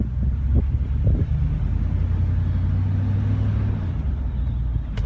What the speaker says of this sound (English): This exhaust system is, in my opinion, just a perfect system for this truck.